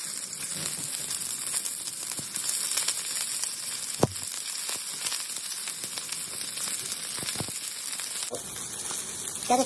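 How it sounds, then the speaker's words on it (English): Meatloaf patties sear face-down in a hot pan, giving a loud, steady, close sizzle and crackle, with occasional sharp pops and brief scraping or shifting sounds. "I'm gonna fry them on their face"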